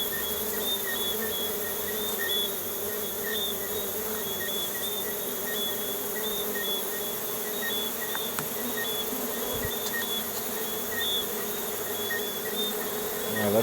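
Honeybees buzz steadily around an open hive, a dense, continuous droning swarm close by that carries on without a break and with no voices.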